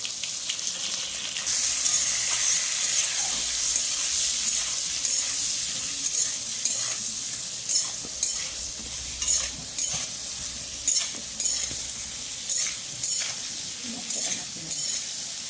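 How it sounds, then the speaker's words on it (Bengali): Eggplant seasoned with salt and turmeric fries in a pan, a loud continuous sizzle broken by regular stirring scrapes and bursts that grow more rhythmic toward the end. "আর বেগুনটা ভাজা হতে থাক"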